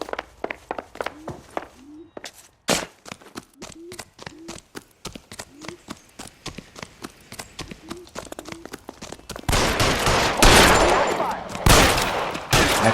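Rapid bursts of gunshots fire in the 1940s Los Angeles crime game L.A. Noire, sharp cracks in quick succession alongside voices, then a denser, louder volley of fire near the end.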